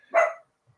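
A dog gives a single sharp bark, close and fairly loud, while indoors with a door open, followed by quiet.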